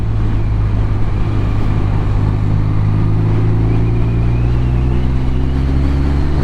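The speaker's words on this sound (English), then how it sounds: "Ah, this is the way to ride this bike, just fourth gear," BMW R12nineT motorcycle cruising in fourth gear on a country road, a steady loud engine drone with sustained low harmonics and wind rush throughout, no talking.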